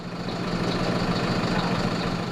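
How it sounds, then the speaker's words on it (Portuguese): A city bus engine runs at a steady idle, a continuous low rumbling drone with broadband noise, loud and close, unchanging throughout. "o problema foi causado pelo barulho do motor do ônibus"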